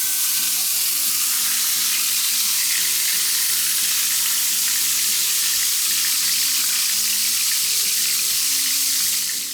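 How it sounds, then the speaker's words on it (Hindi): Beef shami kebabs frying in olive oil, a loud, dense, continuous sizzle that holds steady and close throughout, with a faint repeating rhythmic pattern underneath and no talking. "मैं इसे ऑलिव ऑयल में फ्राई करूंगी"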